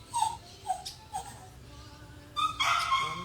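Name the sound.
small dog barking and whimpering over microphone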